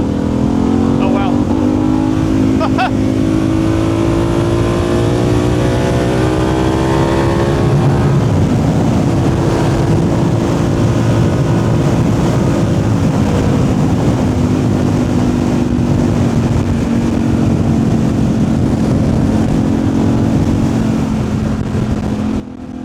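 A 2025 Harley-Davidson Pan America ST rides on the road with a sustained engine note. The pitch climbs and then steps at a quickshift up and down gears, with steady wind noise and no talk.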